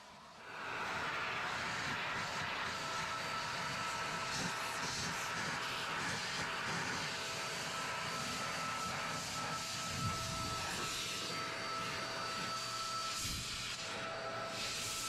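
Adams Mini Heated Air Cannon blasting a steady, loud hiss of air that runs continuously for the whole stretch, clearing debris inside a car.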